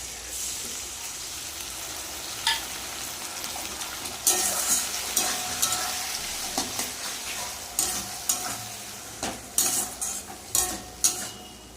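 Grated tomato and ginger-garlic paste hit hot oil in a pan of frying potatoes and onions, a steady sizzle broken by repeated sharp scrapes and clanks of a spatula stirring against the pan.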